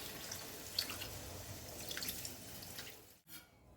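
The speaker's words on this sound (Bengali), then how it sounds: "জলটা দিয়ে দেব।" Water poured into a pot of dhaniya (coriander) chicken curry with yogurt, a steady trickling pour for about three seconds, then stopping abruptly with a brief splash.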